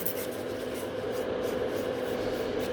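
A nail file rubs across natural nails in a close, continuous raspy scratching that holds steady and even throughout the short moment, with no voices.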